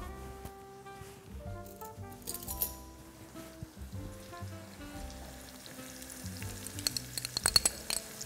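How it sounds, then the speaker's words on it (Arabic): Garlic fries in a pan with a soft, steady sizzle, joined by occasional light clinks and stirring sounds of a utensil against the pan, fairly quiet and close. "باش نحطو يتقلى شوية"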